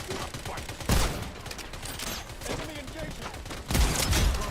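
Rapid bursts of gunfire in the Battlefield video game, loud repeated volleys and louder blasts near the start and end, mixed with a player talking over the action.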